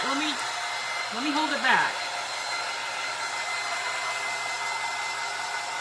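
Hair dryer blowing steadily on a painted clipboard, a continuous near whir that runs the whole time with a brief voice cutting in early.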